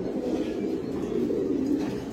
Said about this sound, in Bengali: এটা হলো একটু বয়স্ক কবুতর